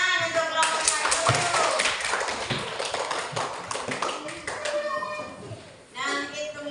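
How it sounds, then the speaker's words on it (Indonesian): Children applaud group 1 in a primary classroom, a rapid patter of many small hands, close and fairly loud, dipping briefly near the end. "Ya, tepuk tangan untuk kelompok 1."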